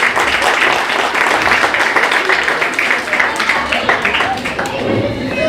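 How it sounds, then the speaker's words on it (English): An audience at an Overseas Pakistanis Independence Day celebration in Abu Dhabi applauds loudly, dense clapping that swells and fades, with a voice speaking over it near the end. "A huge round of applause."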